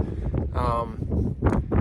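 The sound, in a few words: strong wind on a mountain summit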